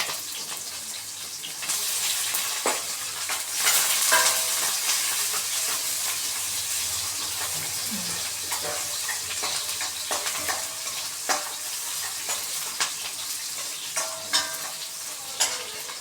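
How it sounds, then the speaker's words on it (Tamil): Urad dal frying in oil until golden, a continuous bright sizzle with occasional stirring scrapes and small crackles, steady and close throughout. "நல்லா பொன்னிறமாக அறவும்"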